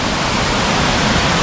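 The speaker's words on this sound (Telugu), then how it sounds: "చాలా వాటర్ ఫాల్ లైన్స్ ఉన్నాయి ఇక్కడ" Steady roar of a waterfall in Andharban forest in Maharashtra, a dense, loud, unbroken rush of falling water heard up close with no other sounds.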